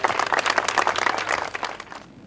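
Festival crowd applauding in tribute at a theater and culture event in Ouagadougou, a brief burst of dense, close clapping that tapers off quickly.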